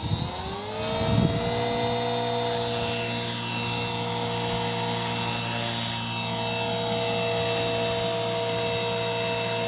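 An HK450 RC helicopter flies nearby with a steady high rotor whine and motor hum that never lets up, with a brief rustle near the start and no talking.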